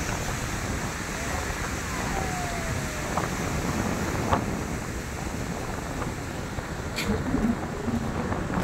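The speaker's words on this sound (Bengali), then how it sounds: "সমুদ্রের জলের শব্দ।" Waves of the Arabian Sea wash onto the shore in a steady, roaring surf, mixed with wind buffeting the microphone.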